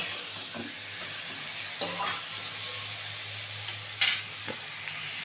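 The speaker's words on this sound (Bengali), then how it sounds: "এখানে দুখানা টমেটো দিয়ে দিচ্ছি দেখো মশলা মোটামুটি ভালো করে কষানো হয়ে গেছে" Spice masala and tomatoes being sautéed in a pan for a fish-head and cabbage curry, giving a constant sizzle with occasional spoon-against-pan scrapes and one sharper clink near the end.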